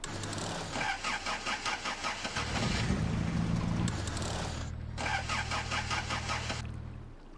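Truck engine in the SnowRunner video game cranking with rhythmic starter pulses, catching briefly into a rough running drone, then cranking again, loud and close with no talk.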